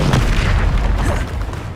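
Booming fire spell explosion in Hogwarts Legacy, a single heavy blast with a rumbling low tail that fades over a second or two, loud and close with no talk.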